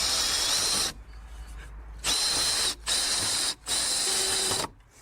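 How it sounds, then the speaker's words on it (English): Power drill driving 40mm screws into soft wood without pre-drilling, heard as three loud whirring bursts of steady pitch separated by short pauses, with a brief fourth burst near the end. "Very carefully and securely screw the whole thing flush with the top edge, ensuring it is perfectly and precisely aligned."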